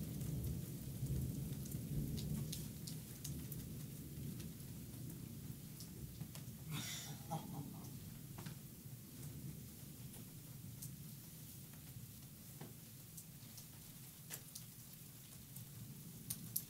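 Steady heavy rain from a supercell thunderstorm hisses throughout, with low rumbling thunder and occasional cracks, no one speaking.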